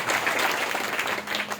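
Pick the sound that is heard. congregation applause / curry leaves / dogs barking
congregation applause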